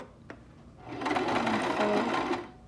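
A sewing machine runs a steady, continuous burst of stitches on a fabric scrunchie, close and fairly loud after a brief click at the start, then slows and stops near the end.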